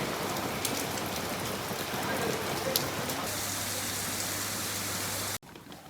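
Steady rain patters densely on surfaces during a cycling trip near the Cyprus border, a constant hiss that cuts off abruptly near the end.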